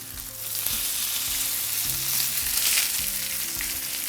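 A fish fillet fries in lemon butter in a pan, a close, steady sizzle punctuated by a few soft thuds and scrapes as it is flipped; no speech.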